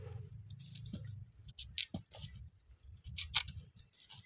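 Knife cutting African yam into small pieces in an outdoor village kitchen in Kenya, quiet crisp irregular chopping and slicing clicks over soft background hum.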